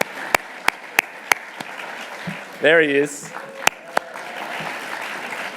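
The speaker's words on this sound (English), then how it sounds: "Give him a round of applause." Audience applause at the IAC 2025 closing ceremony, a wash of crowd clapping with a few sharp, close hand claps standing out, while a voice briefly speaks.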